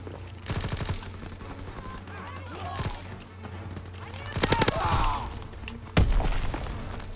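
Gunfire in Call of Duty WWII during team deathmatch play: rapid automatic bursts and heavy shots crackle in several loud clusters, with a person talking faintly between them.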